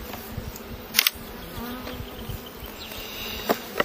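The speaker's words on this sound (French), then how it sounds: "Il y a pas mal d'abeilles." Dense buzzing of many honeybees at an open hive close to the microphone, a continuous hum interrupted by a few sharp clicks and knocks.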